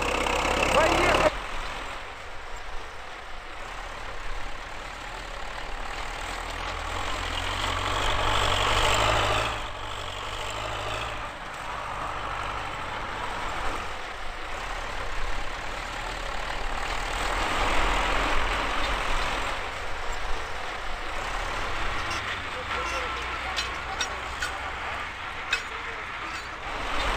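Tractor engines rumble and drone steadily for the whole stretch at the start of a tractor biathlon race, with voices shouting over the mechanical roar as several tractors pull away.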